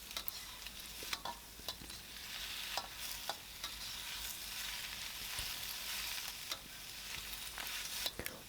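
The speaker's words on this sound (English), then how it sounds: "give it a really good stir fry of about a minute or so, just so that everything kind of warms up" Tofu skin sheets stir-fried in oil in a wok, with a steady bright sizzle broken by repeated sharp scrapes and clacks of the spatula, close and fairly loud throughout.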